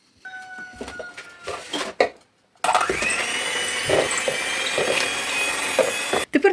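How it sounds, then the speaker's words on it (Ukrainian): An electric mixer whips a cheese batter with soft butter into foam, starting with intermittent bursts and bumps, then running as a steady loud whir for several seconds before cutting off. "Так, і взбиваємо нашу масу до піни"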